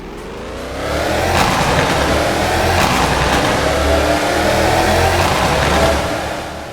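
A car engine in the Roblox game Wayfort revs up loudly and holds a rising, roaring pitch with a couple of surges before easing off, alone and close.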